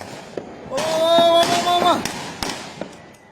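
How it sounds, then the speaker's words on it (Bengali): Police fire guns while advancing down an alley during a street protest: a few sharp cracks ring out at a distance over a brief rising whine and background voices. "কয়েকজন পুলিশ সদস্য গুলি চালাতে চালাতে সামনে এগিয়ে যান"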